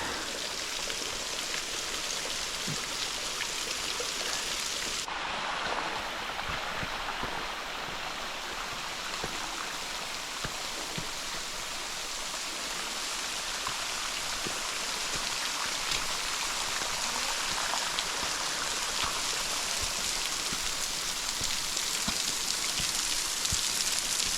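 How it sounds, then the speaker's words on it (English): An underground waterfall at Ruby Falls pours down inside a cave, making a loud, constant rushing roar that fills the whole span with no pauses and no talking. "I'm pretty sure this is the biggest waterfall in the world right now."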